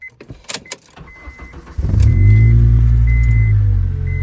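A car engine cranks briefly after some clicks and handling noise, then catches and settles into a loud, steady idle close by, with a faint recurring warning chime above it.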